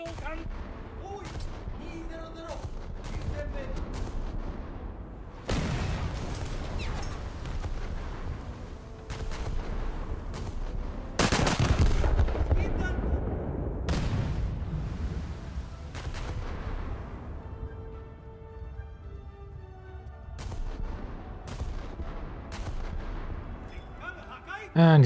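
Ship guns fire during a naval battle video game as a cruiser trades shots: heavy, booming salvos repeat every few seconds, one especially loud and long blast, over a low rumble, with a voice talking in between.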